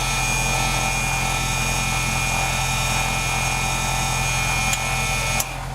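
Auxiliary electric fuel pump running in a Cessna 172 SP before engine start: a steady, even mechanical hum with a constant whine, close and continuous, ending with a couple of faint clicks.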